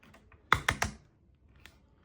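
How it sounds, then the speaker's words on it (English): Ratchet joints on a Marvel Legends Maximum Series Hulk action figure click three times in quick succession, close and crisp, followed by a fainter single click in an otherwise quiet room. "I don't mind the ratchet sound."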